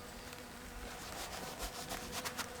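A swarm of honey bees hums around a hive frame, a faint continuous buzz with individual bees droning past close by, no voices.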